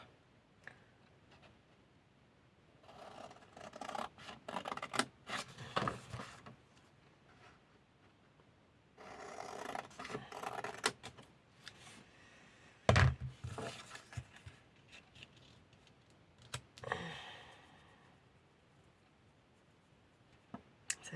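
Paper being cut out into a shape for a scrapbook heart album, heard as bursts of close, crisp snipping and rustling separated by quiet pauses, with one sharp knock partway through.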